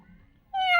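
A person imitates a kitten's meow with one short, rising voiced call that swells up loud and close after a quiet moment.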